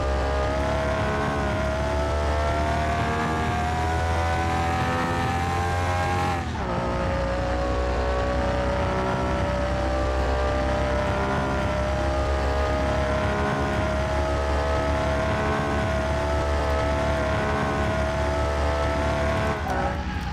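A car being driven in the video game Car Mechanic 2021, a steady sustained engine drone with a noticeable pitch drop near six seconds, continuous and loud with no talking.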